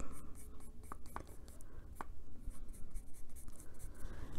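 Colored pencil strokes scratch across paper in quick, light bursts of close scribbling, soft and intimate, with faint background hiss.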